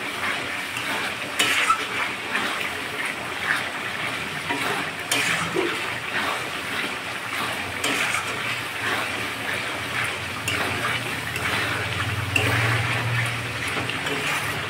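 Water poured into chicken masala frying in a pan on a high gas flame for biryani, a steady close sizzle with stirring and a burst of hissing liquid near the end, with no talk.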